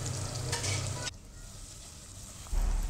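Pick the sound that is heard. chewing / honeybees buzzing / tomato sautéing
tomato sautéing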